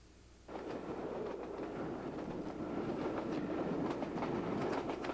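A diesel-hauled British passenger train rolling steadily along the tracks near Rannoch Moor, Scotland, a low continuous rumble with faint rhythmic clatter of wheels, growing slightly louder partway through.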